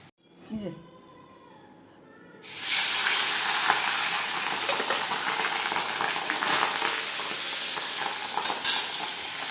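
Fish frying in a covered pan in a home kitchen, a sudden loud burst of sizzling oil that settles into a steady dense crackle and hiss, with a voice heard briefly before it begins.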